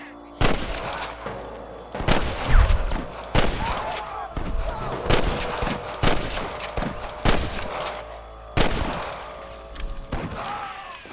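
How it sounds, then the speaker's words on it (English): Western-era gunfire in Red Dead Redemption: a dozen or more sharp shots crack at irregular intervals, some close and loud, others in quick bursts, echoing over a steady background. "I can hear more gunshots."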